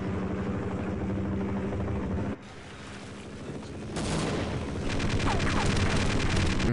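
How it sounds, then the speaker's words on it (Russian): A helicopter in Half-Life gives off a loud, steady rotor drone mixed with heavy game rumble and booming bursts, broken by a brief dip partway through, then returning denser and more intense with rapid chopping pulses. "Ну, и этот тут, этот вертолет."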